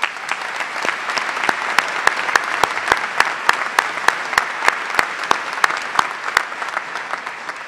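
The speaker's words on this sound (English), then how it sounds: "Let's give them a round of applause." Sustained audience applause at a university commencement ceremony for business and nursing graduates, a steady dense wash of many hands clapping with a few sharp louder claps standing out, no voices over it.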